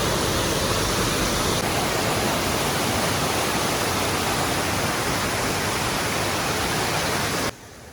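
Waterfall beside the Transfagarasan road in Romania, a loud, steady broadband rush of falling water that fills the scene and drops off sharply near the end.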